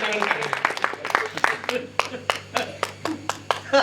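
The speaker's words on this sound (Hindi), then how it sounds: "हाँ ताली बजाओ, इनकी सम्मान में जाओ" Audience clapping at a Hindi poetry recital, irregular distinct hand claps that thin into a slower, spaced-out beat, with talk mixed in.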